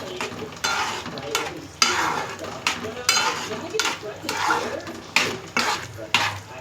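Urad dal vadiyalu simmering in a tamarind pulusu with onion, tomato and green chillies in a pan, bubbling and sizzling close by, with a spoon stirring and scraping the pan in repeated bursts.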